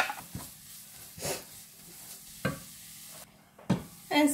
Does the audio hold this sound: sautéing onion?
yes